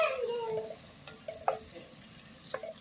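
Onion sizzles gently in a pot of oil and butter while pav bhaji is being cooked, with a soft continuous frying hiss and a few light clinks and stirring sounds, close and fairly quiet.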